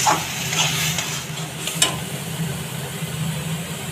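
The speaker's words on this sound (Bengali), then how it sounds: "আবারও ভালো করে নাড়ব। যতক্ষণ না এটা শুকনো হবে বন্ধুরা, ততক্ষণ নেড়ে নেব।" Taro leaves (kochu shak) fry in a pan while being stirred, giving a steady close sizzle with scraping stir strokes and a sharp clink near the middle.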